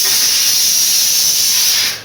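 Steam hisses loudly and steadily from a covered pot of matar paneer cooking in a home kitchen, a close, continuous rush of sound that fades out abruptly near the end, with no voices over it.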